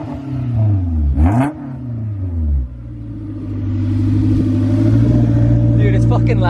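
A car engine revs up and down with rising and falling pitch, then settles into a loud, rumbling sustained roar as the exhaust drones on.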